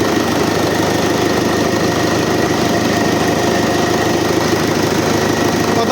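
A tractor's diesel engine running at a steady idle inside a hangar, loud and close with a continuous rough knocking drone throughout and no talking.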